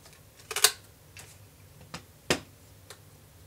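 A handheld paper punch cutting a decorative edge into chipboard for a mini album: a few sharp, separate clicks and snaps spaced irregularly, close by in a quiet room.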